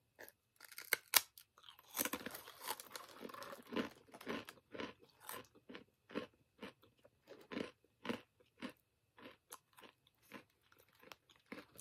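Small crunchy candy pieces from a snack box are chewed up close, a burst of crisp crunching followed by a steady series of distinct bites and crackles, alone with no talking.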